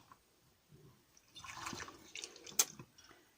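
A homemade liquid natural antibiotic, an internal parasite remedy for geese, ducks and chickens, is poured out of a container, giving faint, close splashing and trickling that swells briefly midway and ends with a sharp drip.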